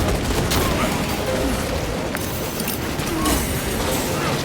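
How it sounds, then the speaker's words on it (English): Krak grenade blast and heavy gunfire in the Space Marine 2 video game, a dense continuous barrage of loud shots and booms with sharper bursts, with no clear talk over it. "Throwing crack grenade."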